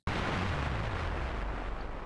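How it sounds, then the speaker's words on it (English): Loud explosion sound effect made for a Space Quest fan movie, a sudden booming blast with a rumbling, roaring tail that stays strong for about two seconds with no talk over it. "that's the explosion sound that we went with in the actual music track"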